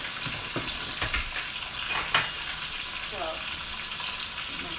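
Garlic and thyme sizzle loudly in a pan alongside pork shoulder, a steady dense crackle broken by a few sharper spatters and clinks, with a brief word spoken over it.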